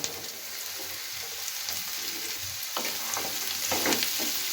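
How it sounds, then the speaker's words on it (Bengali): Chicken and chopped vegetables are tossed together in a hot pan for a restaurant-style chicken soup, a steady sizzle with soft rhythmic stirring scrapes growing a little busier toward the end. "এটাকে নাড়াচাড়া করে নিচ্ছি চিকেনের সঙ্গে সবজিগুলোকে খুব ভালো করে মিশিয়ে নিচ্ছি"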